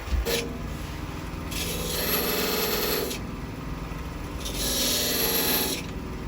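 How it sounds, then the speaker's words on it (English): A 1/16 inch parting tool cuts into spinning wood on a lathe while a ball box is turned, making a loud, close rasping hiss that swells and eases in two long passes with a steady motor hum underneath. "So that's the parting cut for the top of the ring."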